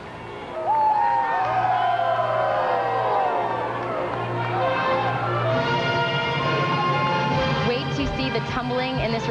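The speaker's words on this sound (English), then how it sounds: "And the crowd loves it. You'll hear it." A crowd at the 2001 NCAA Gymnastics Championships cheers and whoops through a floor routine, a loud, sustained roar with shrill voices rising above it and a commentator talking over the noise.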